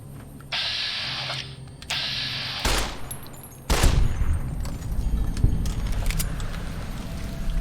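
Gunfire in Fallout: New Vegas: a few sharp, loud shots ring out in sequence, preceded by metallic clicking and mechanical rattles, with ambient game noise continuing after the last shot.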